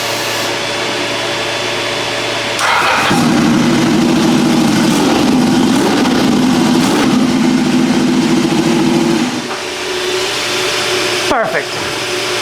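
A Ducati 998 engine on a land speed motorcycle is run up once on the throttle. Its loud, steady buzzing drone holds for about six seconds before dropping back to a lower idle.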